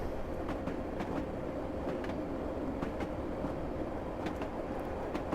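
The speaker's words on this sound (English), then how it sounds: "This is just sturdy, good old London tube stock." A D78 stock London Underground District Line train runs between Richmond and Earl's Court in Train Simulator 2017, giving a steady, continuous rumble with faint repeated rail clicks throughout.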